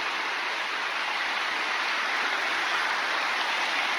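A river in Iceland rushes steadily with a dense, unbroken broadband wash of flowing water, close and constant throughout with no voices.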